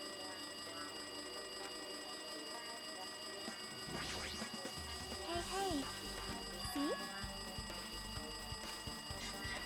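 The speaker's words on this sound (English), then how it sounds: "It looks like that phone is ringing." In an anime scene, a phone rings with a steady electronic tone under a quiet room hum, while people speak briefly over it.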